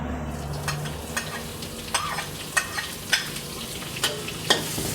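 Onion added to garlic sizzling in a frying pan, stirred with repeated scraping strokes over a steady close fry, no talking.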